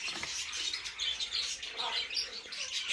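A pair of blue-and-yellow macaws (ararauna) calls in continuous, fairly faint, overlapping chatter, with no voices heard.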